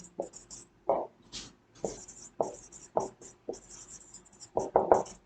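Marker or chalk strokes on a board during a classroom explanation, short scratchy bursts coming in irregular bursts, close and fairly clear with no talking over them.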